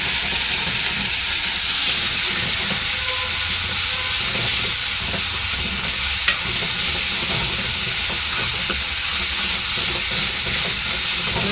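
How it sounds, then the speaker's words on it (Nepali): A homemade ground spice paste of fenugreek, chili and ginger fries in a pan with a steady, close sizzle and a few faint stirring scrapes, continuous throughout with no talking. "यसको बाद हालिसक्यो यसलाई चाहिँ हल्का यसलाई फ्राई गर्छु।"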